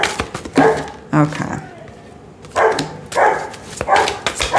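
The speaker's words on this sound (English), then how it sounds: "Sorry, the dog is barking." A dog barks in several sharp bursts, some paired, fairly close, with a person speaking briefly in between.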